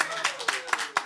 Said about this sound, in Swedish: En applåd för Sven.